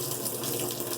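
Water runs steadily from a household tap into a sink while it warms up, a close, continuous broadband splashing hiss with no talk over it.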